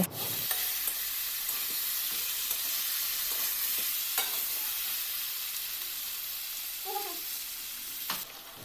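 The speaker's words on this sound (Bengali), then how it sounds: "চিকেনটা লেগে গেছে, একটু জল দিয়ে দিব।" Chicken pieces sizzle loudly in a hot pan as water is poured in, a dense continuous hiss of frying with occasional scrapes and clicks of stirring, no voices.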